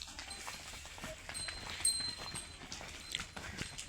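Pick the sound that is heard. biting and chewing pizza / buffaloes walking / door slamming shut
buffaloes walking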